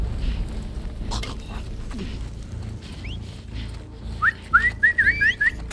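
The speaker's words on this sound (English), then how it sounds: "Stop fucking whistling!" In The Last of Us Part 2, an enemy whistles a short series of sharp, rising signal whistles over a low, quiet game ambience, with a single earlier whistle before the closing burst.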